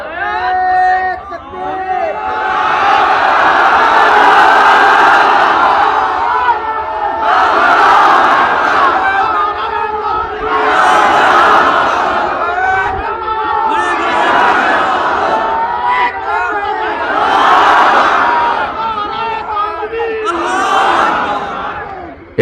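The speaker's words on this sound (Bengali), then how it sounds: "একটু সারা মাঠ কাঁপিয়ে একটা তাকবীর দেন তো আপনারা" A huge outdoor rally crowd of thousands in Meherpur roars takbir in unison, five long surging chants rising and falling across the field, loud and dense with overlapping voices.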